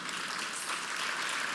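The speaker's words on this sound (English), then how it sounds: "let's give our raffle winners a huge round of applause" A brunch audience applauds a raffle winner at a charity fundraiser, a brief steady patter of clapping at moderate distance with no talk.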